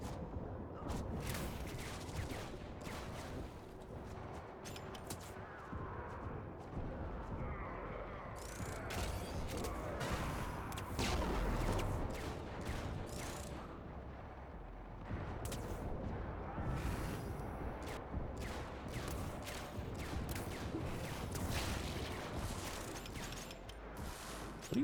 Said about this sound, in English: What are you shooting at, you silly sentinel?